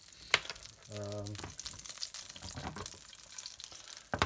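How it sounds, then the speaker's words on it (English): Lentil curry ingredients sizzle in hot oil in a pan, a steady moderate hiss with a brief tonal hum partway through and a few clinks near the start and end. "I'm going to let them sizzle away for about a few moments there."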